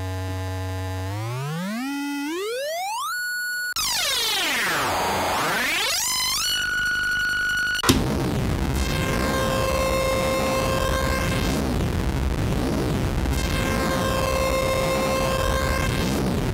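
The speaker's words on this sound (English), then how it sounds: "So what you heard here is the chips module" Eurorack chips oscillator module with two oscillators, producing electronic tones that glide upward in pitch, then sweep down and back up, then settle into a steady buzzy chiptune-like drone with repeating swept overtones, loud and continuous.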